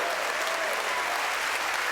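A church congregation claps together in sustained, dense applause that fills the space evenly from start to finish, with no clear voices standing out.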